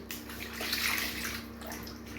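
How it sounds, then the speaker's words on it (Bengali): A live snakehead fish is rinsed in a basin of water, producing a short, continuous splashing and sloshing close by with no voices. "প্রথমে মাছটাকে ভালো করে জলে ধুয়ে নিতে হবে।"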